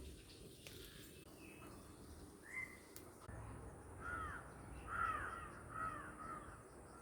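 Crows caw several times outdoors among closely spaced village houses, with moderately near calls in the middle and later part against a quiet background hum.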